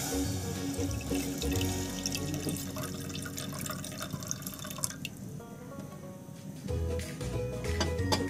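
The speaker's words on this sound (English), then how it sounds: "first we've lit the gas, and then we're going to add some water" Water poured into a pan on a lit gas stove for cooking Maggi noodles, a continuous close splashing and trickling stream with no talking.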